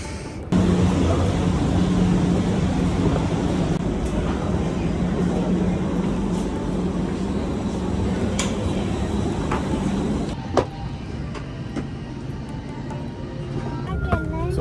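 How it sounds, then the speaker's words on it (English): A Pakistan International Airlines airliner produces a steady, loud engine drone that continues for several seconds, with murmured voices nearby and a few sharp clicks toward the end. "that's the plane that we are traveling with"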